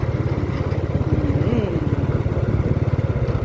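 A vehicle engine drones loud and close with a rapid, rough pulsing rhythm as it drives fast on a trip to a wedding, steady throughout with a faint voice briefly underneath.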